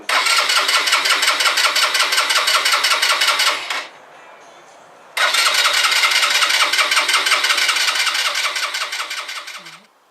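A motorbike's starter cranks in two long, steady rhythmic bursts before a test ride, loud and close, separated by a short quiet pause, with the second attempt fading out.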